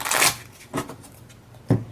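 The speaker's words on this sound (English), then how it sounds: "So shuffle, allow your opponent to cut." Pokemon trading cards from a theme deck are shuffled by hand, with three quick riffling bursts at close range, the first longest, no talking over them.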